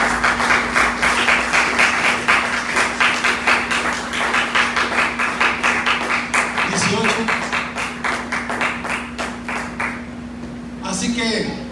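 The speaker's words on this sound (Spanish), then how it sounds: "un fuerte aplauso a nuestro Señor" A church congregation claps in a steady rhythmic beat throughout a worship service, loud and close, with a constant hum beneath and a few voices cutting in near the end.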